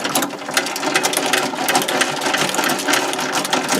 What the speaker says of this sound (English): And with the handle on the top,